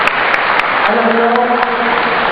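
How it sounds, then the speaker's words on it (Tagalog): Congregation applause during a Catholic mass at the Sanctuario de San Jose in Greenhills, a steady loud patter of many hands with a sustained voice or tone running beneath it partway through. "sana ang palakpak yan, palakpak ng bawat Katoliko."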